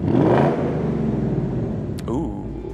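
A 2024 Ford Mustang engine revs up, a throaty rumble swelling and then easing off; a voice exclaims briefly near the end.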